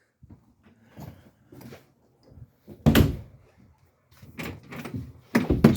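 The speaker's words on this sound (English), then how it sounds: "Door going to the outside." The exterior door of a Forest River Cherokee 324TS bunkhouse travel trailer opens and shuts, giving a few close, sharp thunks and latch clunks separated by quieter handling noises.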